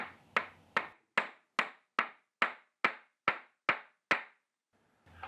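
A hammer tapping a plastic anchor into drywall, about ten sharp evenly spaced taps up close, each one decaying quickly, followed by a short pause and a faint final knock.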